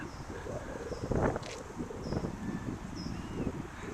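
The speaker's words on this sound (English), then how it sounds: "And now we have the wind." Wind blows across an outdoor film location near a flat, a low rushing buffet against the microphone with light rustling gusts.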